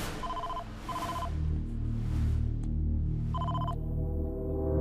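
Three short bursts of a warbling electronic phone ring, two close together early and one later, over a steady low hum.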